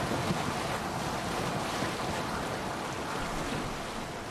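Boat sailing across open sea in Assassin's Creed Odyssey, a dense, steady wash of waves and wind filling the scene without letup, with no voices.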